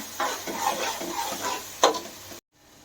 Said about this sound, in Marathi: आता हे चांगला मसाला आपण मिक्स करून घेऊ